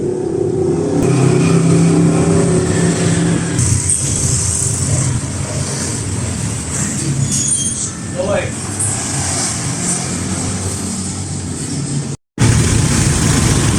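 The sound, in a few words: overhauled 4D56 diesel engine of owner type jeep revving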